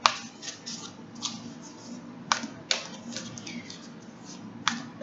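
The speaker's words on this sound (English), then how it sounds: "These cards are trying to stick together, so it's not going to be easy shuffling this way" Oracle cards that stick together are shuffled by hand, giving soft rustling with several sharp snapping flicks as the deck is split and riffled, close and without speech.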